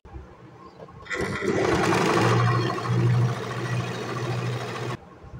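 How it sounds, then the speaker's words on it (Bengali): A Butterfly JH8190S sewing machine stitching a piece of fabric runs in one steady, loud, close whirring burst of about four seconds, starting and stopping abruptly, with no talk. "এই যে দেখো আমি একটা কাপড়ের টুকরা নিয়ে নিলাম, তারপর আমি সেলাই করছি।"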